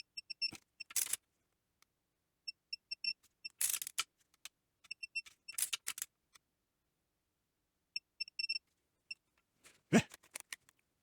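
A torque wrench clicks while tightening the crankshaft main bearings on a 560SL engine, giving sparse, crisp metallic clicks in small clusters, close and quiet over near silence.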